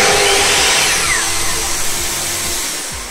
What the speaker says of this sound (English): The vacuum cleaner kicks on itself.